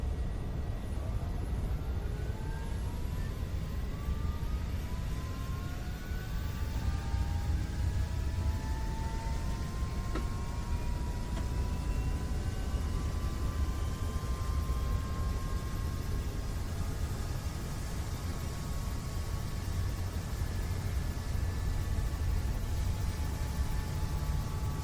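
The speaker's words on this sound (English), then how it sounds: "Big whirly thing starts spinning." AS350 helicopter rotor spinning up in a CowanSim flight simulator, heard from outside: a continuous broad rumble with rising whining tones that climb steadily in pitch as the rotor gains speed, loud and unbroken.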